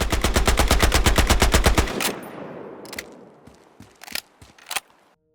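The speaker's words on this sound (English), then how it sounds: "it has a very strange sound and feel to it when you fire the gun" Rapid automatic fire from the M125 SMG in Battlefield Hardline, a loud fast burst of about two seconds followed by a fading tail, a few scattered mechanical clicks and faint single reports.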